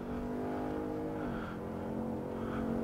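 A race car on a track brakes hard into a corner, its engine note steady and droning, dipping briefly as it slows before holding on through the bend, loud and continuous with no voices.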